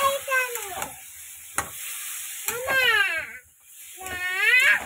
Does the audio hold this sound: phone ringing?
no